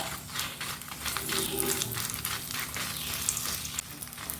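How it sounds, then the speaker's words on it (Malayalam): Dry, crackling sizzle of dried red chillies roasting in a pan, steady and close, with light scraping stirs and a faint background hum. "ഈ മുളക് അത് നന്നായിട്ടൊന്ന് കളറ് മാറിയാലും വേണ്ടില്ല അങ്ങനെ വറുത്തെടുക്കണം"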